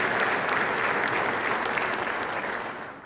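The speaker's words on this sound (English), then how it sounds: "so let's give a round of applause for Damon." Audience applauding at an Army football awards ceremony, a short burst of steady clapping from a crowd that fades slightly toward the end.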